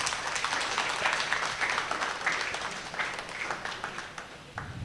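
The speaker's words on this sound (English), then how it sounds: "Let us give them a round of applause." An audience at an academic gathering claps together in a steady, moderately distant round of applause that continues evenly for several seconds with slight swells.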